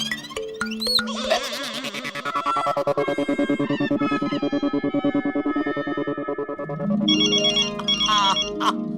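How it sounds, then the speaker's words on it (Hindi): An electronic ringtone plays a warbling, distorted melody that wobbles and shifts in pitch, with a brighter beeping phrase near the end. "आ गया फोन।"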